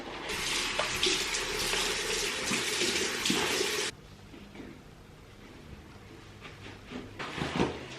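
A tap runs strongly into a sink while a face is rinsed, a loud steady rush that cuts off partway, followed by softer splashing and dripping.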